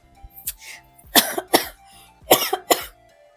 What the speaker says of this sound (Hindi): बट खांसी आ गई